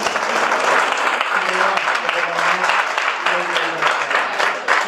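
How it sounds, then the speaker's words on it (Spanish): An audience claps steadily at a round-table symposium, a dense, continuous applause that runs loud and unbroken for about five seconds, with faint murmuring voices mixed in. "Un aplauso para David que está aquí"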